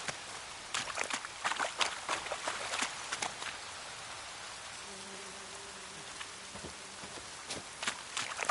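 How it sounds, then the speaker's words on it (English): Rain falls steadily in The Witcher 3: Wild Hunt, a soft patter of drops on surfaces with a faint low hum partway through. "Looks like rain."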